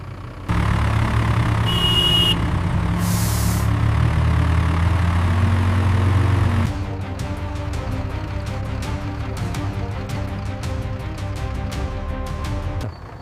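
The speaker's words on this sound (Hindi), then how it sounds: "विक्रम, ये अशोक लीलैंड है और चलाने वाले तुम हो।" An Ashok Leyland truck turning off onto a village road drones with a loud, low engine hum that then shifts to a quieter, steadier tone with faint clicks.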